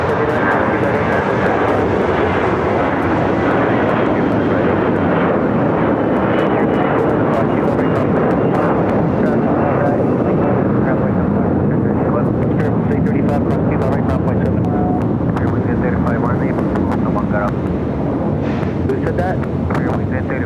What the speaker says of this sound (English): Also have a Frontier A320 Neo landing here on the south side.